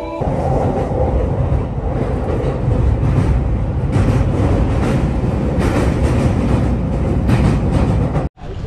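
A train running at a station in Shinjuku, Tokyo, with steady loud rumbling and rail noise throughout, and a brief sharp drop in sound near the end.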